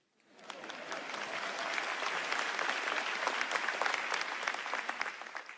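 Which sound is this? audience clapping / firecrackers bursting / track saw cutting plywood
audience clapping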